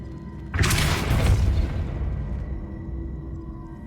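The Depulso spell fires in the video game Hogwarts Legacy with a sudden loud whooshing boom. A rumbling wash follows and fades away over a few seconds.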